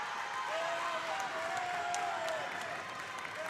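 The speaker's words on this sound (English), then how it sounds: "the gym here at Canton High School is getting loud for whichever side you're cheering for" Crowd noise and scattered applause fill a high school gym at Canton High School during a 2019 volleyball playoff, a steady, fairly distant roar with a thin whistle-like tone drifting through it.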